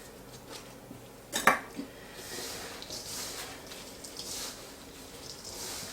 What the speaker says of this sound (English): I need to use my hands to mix it all together